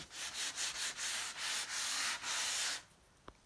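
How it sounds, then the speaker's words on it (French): Leather taxi seat upholstery being sanded by hand, a series of close, rhythmic rasping strokes for about three seconds, then a brief quiet with a couple of light taps. "Pendant que ça sèche, commence à poncer le cuir."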